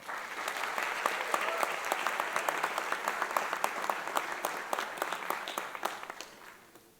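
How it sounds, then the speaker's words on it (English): Steady round of applause from a graduation hooding ceremony audience for Duke engineering master's graduates, dense clapping sustained for several seconds before tapering off at the end. "show their gratitude with a round of applause to all those who've helped them get this far"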